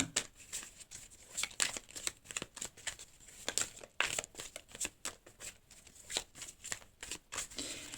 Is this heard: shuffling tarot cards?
yes